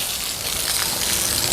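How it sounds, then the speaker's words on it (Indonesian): A tree is watered outdoors, the water gushing and splashing as a steady, dense hiss that runs unbroken and fairly loud from start to finish. "Tapi ini pohonnya tak siram."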